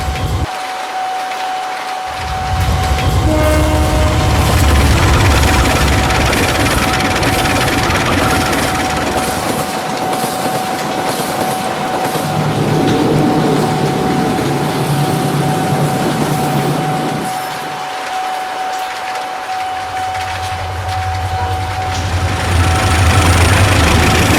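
A train rumbles loudly past a railway level crossing in the rainy evening, a low heavy drone with a steady tonal hum, alongside idling traffic stuck at the crossing.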